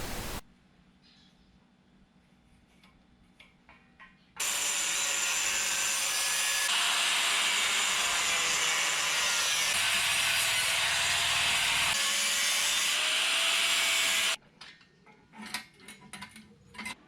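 Scrap steel pieces being cut for a loft-style chair, a loud continuous grinding roar lasting about ten seconds between quieter workshop stretches, with slight shifts in pitch partway through.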